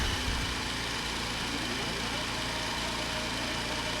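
Race car engine idling in a sim racing game on a Qatar circuit, a steady low droning hum that stays even and continuous throughout with no revving.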